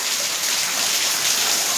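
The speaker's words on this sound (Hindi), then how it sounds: "बारिश आ रही है।" Rain falls steadily outdoors, a dense, even hiss of water throughout, loud and close with no other sounds standing out.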